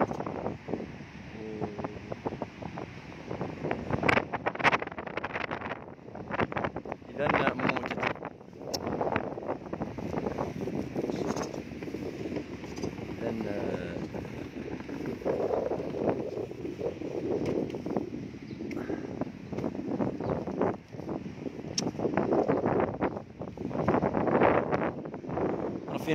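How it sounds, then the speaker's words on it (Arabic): Strong wind buffets the microphone outdoors in Nador, Morocco, producing loud, gusty rumbling bursts that come and go throughout while someone talks over it. "الناظور اليوم كاينه رياح قويه"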